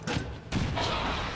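A frag grenade explodes in the video game XCOM 2, with two quick, heavy blasts about half a second apart that trail into a rumbling decay.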